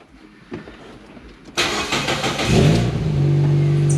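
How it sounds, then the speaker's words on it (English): A Scion xA engine cranks and catches after a few quiet clicks, firing up abruptly with a brief rev before dropping into a steady close idle. "Hold on, let me start the car."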